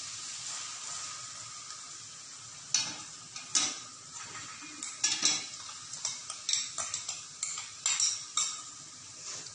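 Rice and mung dal stirred in a cooking pot: a faint background hiss, then a series of sharp scraping clinks from a spoon against metal in an irregular rhythm, close and clear with no talking.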